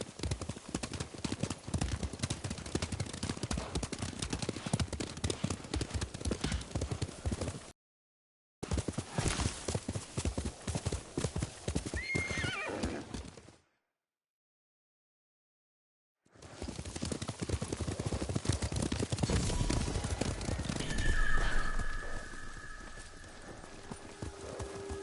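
Several horses gallop off together in a video game, a dense, steady drumming of hooves that cuts out briefly twice, with a faint whinny and wind-like ambience later.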